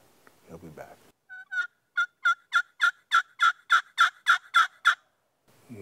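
Wild turkey gobbling outdoors, a quick burst of a dozen or so rhythmic gobbles rising and then fading, heard clearly at a moderate distance with no talking over it.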